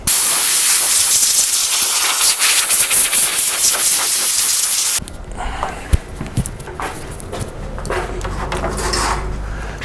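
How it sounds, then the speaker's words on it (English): An air compressor nozzle blasts dust off an Amiga A500 case in a loud, close hissing rush for about five seconds, then stops, leaving quiet clicks and handling of plastic parts. "So I just have a nice air compressor that I use."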